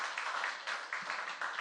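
Congregation applauding during a special early-morning church prayer service, a dense, steady clapping that fills the whole short clip at a moderate level, with no talk over it.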